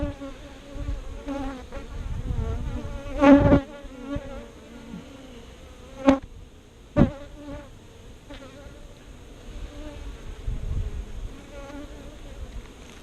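Honey bees buzz steadily at an open hive where the queen has been laying in a super, a dense close drone with a few sharper bursts and knocks throughout.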